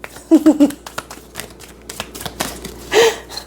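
Tarot cards being shuffled by hand, with a few quick riffling bursts early and another near the end, separated by softer handling noises; close and fairly quiet.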